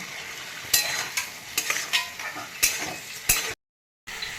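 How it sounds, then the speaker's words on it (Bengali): Boiled rajma beans go into sizzling masala and are stirred with a spatula, bringing a steady frying hiss punctuated by several sharp scrapes and clacks against the pan before a brief silence. "এবারে আমি সিদ্ধ রাজমাটা দিয়ে দিচ্ছি"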